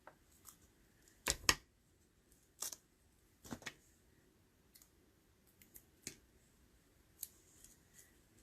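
Scissors snip a very thin piece of paper in quiet close-up, a handful of sharp crisp cuts spaced irregularly, with faint clicks between them and no talking.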